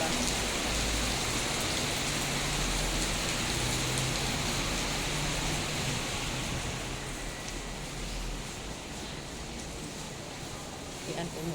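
Downpour near a mall entrance, heavy rain hissing steadily and loudly across the whole stretch, easing only slightly near the end, with no clear voices over it.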